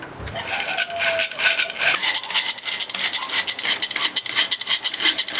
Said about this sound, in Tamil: மூணு சேர்ந்து நல்லா மிக்ஸ் பண்ணிக்கலாம்